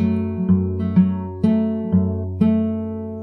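Fingerstyle acoustic guitar plays a passage, with plucked notes every half second or so ringing over a sustained low string, close and clear with no talking.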